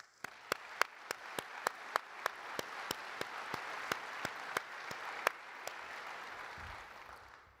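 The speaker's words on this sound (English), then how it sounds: "Now I think that's worthy of an applause." Applause rises from the audience at a police basic academy graduation ceremony. It is a fairly faint wash of clapping marked by sharp, evenly spaced louder claps, which stop shortly before the end.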